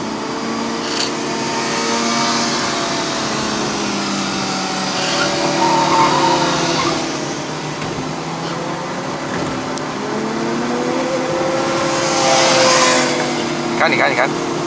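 A 2017 Proton Saga 1.3L Premium CVT drives uphill on the Genting mountain road in Malaysia, its engine giving a steady droning hum with rising and falling revs. Talk runs over the engine throughout.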